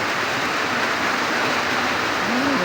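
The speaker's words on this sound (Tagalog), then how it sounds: "Lumakas na naman ang ulan." Heavy rain pours in a dense, constant hiss around a house under construction, steady and unbroken throughout.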